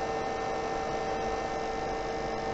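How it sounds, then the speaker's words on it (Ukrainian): Cooling fans of a PowMR hybrid inverter with an MPPT solar controller run at rising speed, producing a steady, loud electrical hum and whir with a strong tonal drone throughout and no speech. "Вентилятори чутно збільшують оберти."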